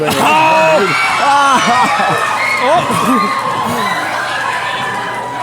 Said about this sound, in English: Look at a standing room only crowd, David.